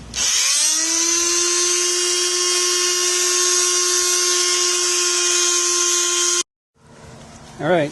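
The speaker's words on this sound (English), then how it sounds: "Alright, sanding's all done." A power sander whines steadily at a high pitch for about six seconds on a carbon bike frame repaired with epoxy, then cuts off abruptly, followed by a brief bit of talking.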